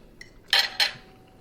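Wine glasses clink together in a toast over a fish dinner, two sharp, bright clinks about a quarter second apart, close by with no talking.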